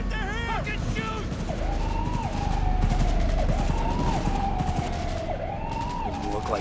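Gunfire rattles in Cyberpunk 2077 under a wailing police siren that rises and falls repeatedly, with bursts of shots and a voice talking over the chaos.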